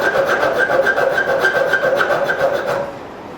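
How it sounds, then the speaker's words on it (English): A worn rat tail file rasps a notch beside a hole in forged metal, a steady run of rapid, close back-and-forth strokes that stops near the end. "I'm just taking this rat tail file that's worn out, I'm filing in a notch on each side of the hole."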